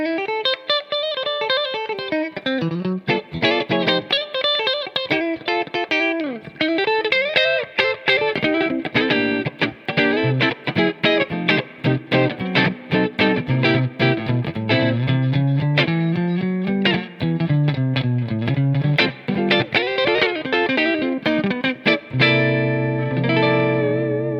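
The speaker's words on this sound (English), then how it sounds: "It's a bright guitar inherently, though, especially when you have everything on 10." Bright Fender Jaguar electric guitar with all controls on 10, played alone in busy melodic phrases and chords, its attack slightly ploppy with short sustain, washed in effects, chorus and reverb, loud and steady for the whole stretch.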